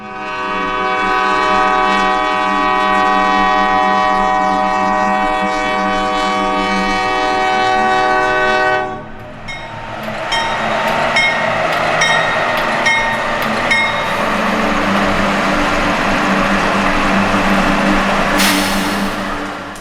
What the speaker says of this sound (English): This train happened to be Norfolk Southern 245, which was accelerating from a stop and preparing to go into the east end